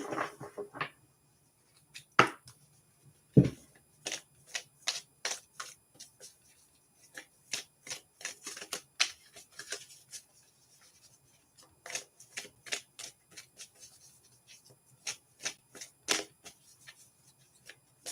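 A tarot card deck being shuffled and cut, a run of crisp, close, quiet card flicks and riffles in irregular bursts, with no one speaking.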